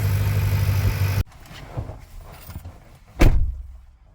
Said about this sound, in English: Otherwise, the engine sounds pretty good.